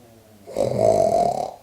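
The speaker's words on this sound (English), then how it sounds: "lucky you get to hear my cat snoring" A sleepy cat snoring while nestled under an Icelandic blanket, one close, steady snore that swells and fades over about a second, heard alone.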